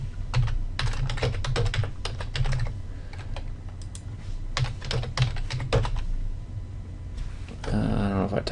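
Clicking keystrokes on a computer keyboard come in quick bursts and pauses, close and clear, as someone types login details into a web form, with a brief clatter near the end.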